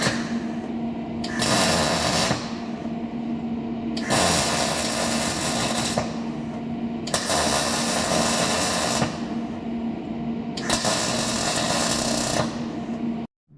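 Welding a homemade tool for repairing burst irrigation pipes, heard as four long, loud, crackling hissing bursts of roughly two seconds each, separated by short pauses over a steady background hum, with no talking.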